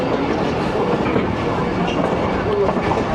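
A Pakistani passenger train, the Awam Express, rumbles along a loop line at Kharian Cantonment station, a dense, steady roar of wheels and carriage noise close by, with faint clickety-clack running through it and no pauses.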